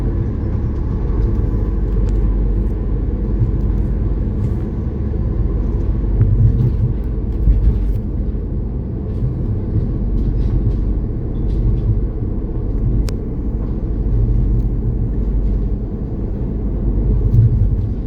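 A car rolls along inside a Eurotunnel shuttle train carriage from the UK to France, giving a loud, steady low rumble that holds throughout with no voices.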